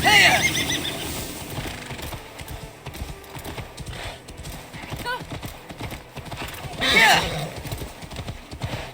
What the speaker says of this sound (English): Your horse is slow and her rider's drunk.